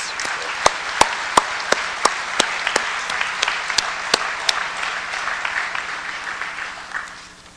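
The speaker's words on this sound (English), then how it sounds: "let's give the Honor Guard for the Fish and Wildlife Service a round of applause" Audience applause honoring the Fish and Wildlife Service Honor Guard at a memorial ceremony for fallen law enforcement officers, a steady crowd clapping with a few sharp individual claps standing out, tapering off near the end.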